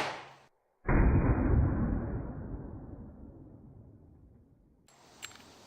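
A single loud report from a 230-grain bullet at about 780 feet per second, fired into a tub of oobleck, booms out after a moment of silence and rumbles away slowly over several seconds.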